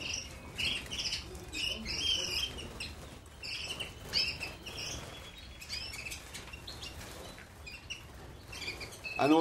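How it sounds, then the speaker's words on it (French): Colored canaries sing and chirp steadily, bright trilling phrases and quick tweets overlapping across the whole stretch, moderately close with a busy aviary background and no talking. "Un oiseau, bon c'est gai, ça chante."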